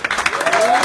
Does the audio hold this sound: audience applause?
yes